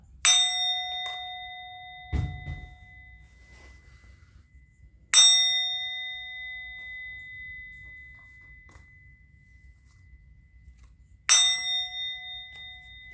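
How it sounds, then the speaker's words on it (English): A bell is struck three times at long, uneven intervals, each bright ring decaying slowly, with a soft thud between the first two strikes. "I'm going to ring the bell."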